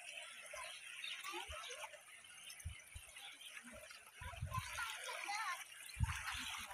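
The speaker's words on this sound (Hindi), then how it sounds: "नीलम पानी के साथ खेल रही है व्यूअर्स" Children splash and play in water on a family outing, with irregular splashes and trickling over a steady watery wash and a few thumps, while voices talk and call nearby throughout.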